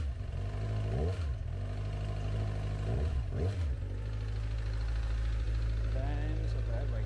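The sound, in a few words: Yamaha MT-09 motorbike engine idling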